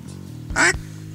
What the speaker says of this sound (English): If it's Thanksgiving, the mallards are gonna start showing up.